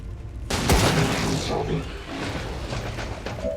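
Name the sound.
pistol shot in XCOM 2 video game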